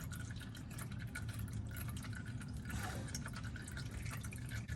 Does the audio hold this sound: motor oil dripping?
yes